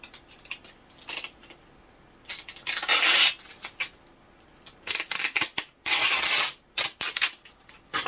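Scissors cut through the corner of comic book packaging up close, a series of crisp snips and two longer rasping slices through plastic and tape, with small handling rustles between.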